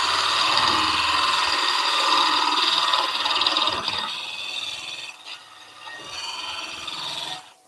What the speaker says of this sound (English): I'm going to turn the lathe speed down from 1300 down to around about 1000 revs.